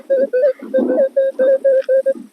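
A Minelab X-Terra Elite metal detector gives a loud, steady tonal signal, pulsing in about nine even beeps in quick succession, close and clear with no talk over it.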